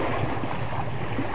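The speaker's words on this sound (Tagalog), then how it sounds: "Laki na rin yung ano, yung alon. Ayun, malaki na siya." Large storm waves and strong wind on the open sea, heard from a small fishing boat during Typhoon Paolo: a steady, dense roar of wind and surging water, loud and continuous with no voices.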